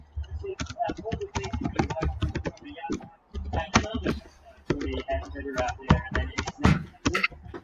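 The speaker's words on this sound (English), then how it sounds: "Let's see what Deb is typing" Typing on a computer keyboard, with rapid close clicks in bursts and short pauses between them, alongside some speech.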